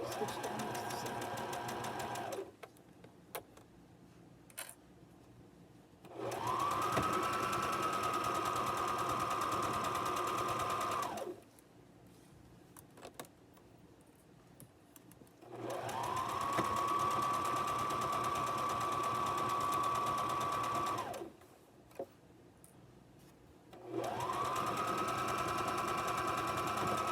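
A home sewing machine stitches fabric in three long steady runs, a fast whirring buzz starting and stopping with quiet gaps between, close and clear with no talking.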